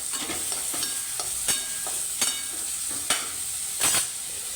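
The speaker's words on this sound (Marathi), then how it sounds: "हरभऱ्याची डाळ भिजवली होती मी ती घातली हळद सगळं मसाला मीठ एकदम परतून घ्यायचं" Soaked chana dal frying with turmeric, spices and salt in a pan: close, continuous sizzling with sharp spatula scrapes and clinks at a fairly regular pace, no talking.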